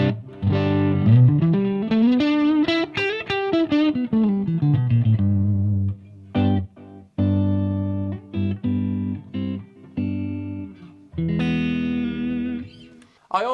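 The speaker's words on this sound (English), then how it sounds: "Here's my clean signal with a bit of delay." Clean electric guitar through a Marshall Plexi amp into a Marshall cab with delay: a rising and falling run of notes, then chords and picked phrases with gaps and trailing repeats, close and fairly loud, no talking.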